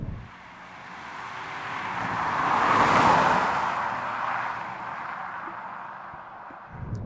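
A Peugeot 407 Coupe cruising at 56 mph, heard as a broad road and engine roar that builds to a peak mid-clip and then eases off, steady and fairly close, with no talk.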